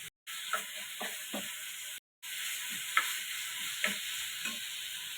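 Mashed olives with salt and turmeric sizzle steadily in a pan for a thin olive chutney, a quiet, close frying hiss broken by scraping stirs and soft clinks.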